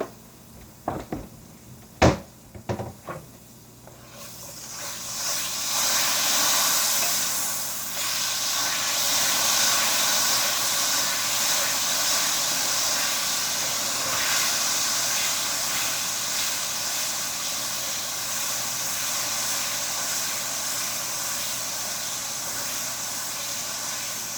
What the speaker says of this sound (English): I'm probably going to wind up kind of literally frying the steak